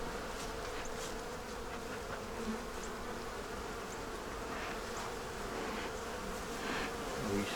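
A honeybee swarm drones in a steady, dense buzz that holds level throughout, with individual bees zipping past now and then, fairly faint and with no voices.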